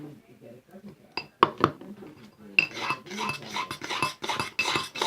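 Slime being mixed in a bowl after laundry detergent activator is added, giving clinking, scraping utensil-on-bowl sounds, sparse at first and then busy and continuous, with a voice talking over part of it.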